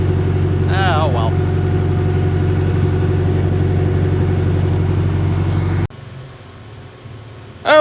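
A John Deere 2010 tractor engine idles with a steady, loud, low rhythmic chug, with a brief voice over it early on, before the sound drops away sharply near the end.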